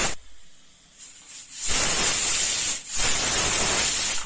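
A pressure cooker holding soya chunks pulao vents steam, a quiet lull followed by two long, loud hissing bursts separated by a short break, close by and without speech.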